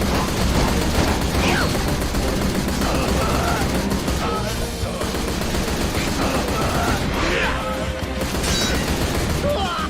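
Gunfire in the samurai-era action game Like a Dragon: Ishin, with repeated shots and rapid bursts layered over combat effects and game music, loud and continuous for several seconds.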